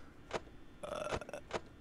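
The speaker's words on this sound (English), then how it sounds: "I burped for you" A person burps during a rated-R FNAF game session, a brief, guttural belch in the middle of a few short throaty bursts with no words spoken.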